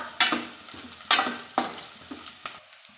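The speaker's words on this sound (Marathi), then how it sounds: "कांदा छान असा फ्राय करून घ्यायचा।" Chopped onion fries in a pan with chilies and asafoetida, giving a soft sizzle broken by several sharp scrapes and knocks of a spoon stirring against the pan, close by with no talk.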